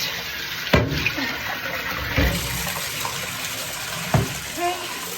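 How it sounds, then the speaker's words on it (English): Running tap water pours steadily into containers during a blackout drill, a continuous close rushing with a few brief knocks as containers are swapped. "the only job I have right now while I can still see, is to keep filling up the water"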